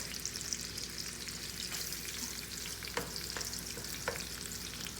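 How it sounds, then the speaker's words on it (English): Food browning in a pan for biscuits and gravy, a soft continuous sizzle with a few sharp scraping strokes of a utensil against the pan. "We're basically just browning this."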